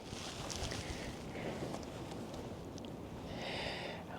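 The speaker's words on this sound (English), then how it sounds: "That wind is really making it challenging." Wind gusts across open desert ground at night, a steady broadband rush that swells and fades in uneven waves, with occasional buffeting bursts and no voices.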